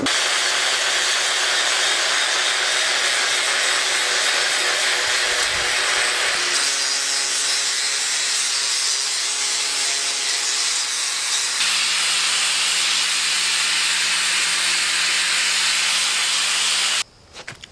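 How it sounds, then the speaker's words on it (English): An angle grinder grinds down weld tacks on steel plates for a Silent Hill Great Knife build, a loud, steady abrasive whine and hiss that shifts pitch as pressure changes before cutting off abruptly near the end. "So after you've done this grinding, grind back the tacks"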